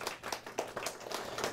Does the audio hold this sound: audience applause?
yes